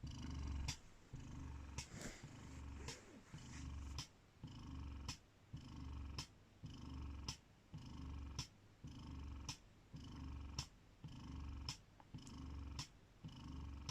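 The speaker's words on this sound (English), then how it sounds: "Spectra S1 noise level. 1 pump only at the moment." A Spectra S1 breast pump runs with a single pump attached, giving a quiet, steady rhythmic whoosh-and-click cycle about every second. Each cycle has a low motor hum and a soft mechanical click, and no one is talking.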